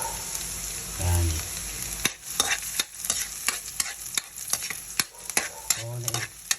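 Garlic is stir-fried in a pan, with a loud sizzle broken by repeated scraping and clattering strokes of a spatula at an irregular rhythm, close by and without speech.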